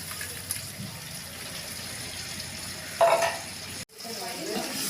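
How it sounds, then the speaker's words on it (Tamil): Ground coconut is stirred into chicken gravy in a cooking pot, a soft scraping and bubbling simmer with a brief louder clatter near the end and a short gap before stirring resumes. "நல்லா கலந்து விட்டுக்கலாங்க."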